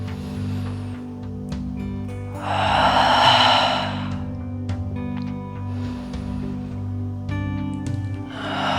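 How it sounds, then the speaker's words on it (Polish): Three deep, breathy exhales, each a long airy whoosh rising and fading, separated by quieter pauses, over a steady low musical drone. "Zrób trzy głębokie wydechy przez usta z dźwiękiem."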